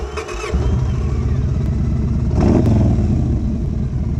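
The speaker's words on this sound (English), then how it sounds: "let me just start it up so you can hear the engine real quick" A Yamaha Raider S motorcycle engine cranks and starts, then settles into a loud, steady idle with a brief rev swell midway, recorded close up.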